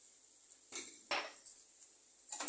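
A utensil scrapes and clinks against a pan while egg and fish podimas with salt and pepper is mixed, a few separate short metallic knocks spaced across a quiet background.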